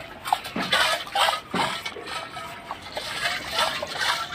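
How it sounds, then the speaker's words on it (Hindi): Water sloshes back and forth inside a geyser water-heater tank as it is shaken for cleaning, a few litres splashing in repeated rhythmic surges, close and fairly loud with no talk. "पानी डालने के बाद इसको अच्छे से हिलाओ।"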